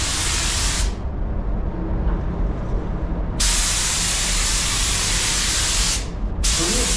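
A DeVilbiss DV1 spray gun sprays paint in an auto body shop, giving loud, close, continuous hissing in long bursts, with short breaks where the trigger is released.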